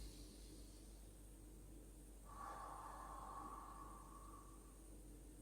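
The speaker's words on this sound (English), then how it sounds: "breathing in through the nose" A slow, soft inhalation through the nose during a morning yoga session, a single drawn-out breath lasting about two seconds, faint and close over steady background hiss.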